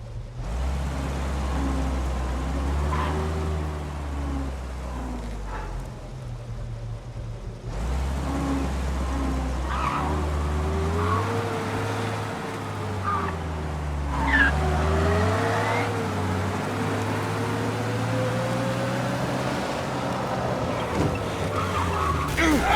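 In the video game Mafia Definitive Edition, a car engine drones and shifts pitch while tires squeal and skid through turns, steady and fairly loud, with voices talking over it at times.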